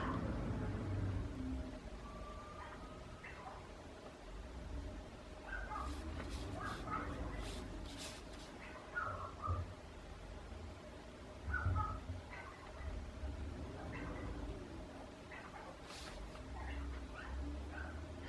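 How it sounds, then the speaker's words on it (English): Dogs bark intermittently at a distance at a trash truck under a steady low background rumble, with short sharp yips scattered through the stretch. "So it doesn't surprise me that they're barking at the trash truck."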